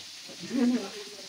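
Fish frying in a pan in a home kitchen gives a soft, steady sizzle that swells briefly midway through the short stretch, with faint background sounds around it.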